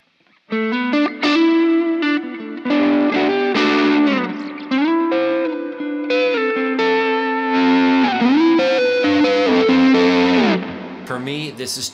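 Electric guitar through an overdrive pedal, with the volume knob rolled back, plays a gritty sustained lead line with bends and slides, loud and continuous with a little chorus-like shimmer.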